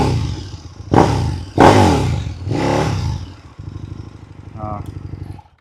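KTM 1290 Super Duke R with its LC8 engine revving hard in three loud, close blips that rise and fall, then settling into a rougher, lower running note.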